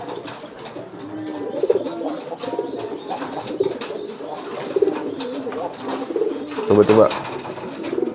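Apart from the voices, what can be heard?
courting pigeons cooing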